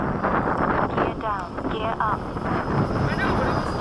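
A small FMS 80mm Hawk electric ducted-fan RC jet whines through the air at a flying field, its steady rushing whir mixed with heavy wind buffeting on the microphone while people talk nearby.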